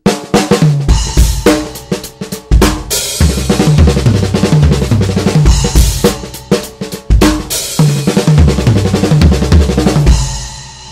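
A loud, busy drum kit groove with cymbals and bass drum, broken by quick six-stroke roll tom fills and crashes; no talking.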